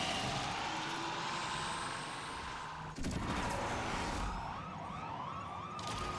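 A police siren wails in the Asphalt 9 racing game amid a constant roar of car engine and road noise, the siren rising and falling clearly in the second half, with no voices.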